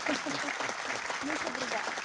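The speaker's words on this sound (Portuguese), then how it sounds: "peço uma grande salva de palmas" Audience applause at a judicial swearing-in ceremony for a new appellate judge, steady clapping from a crowd filling the short stretch at moderate level, with some voices mixed in.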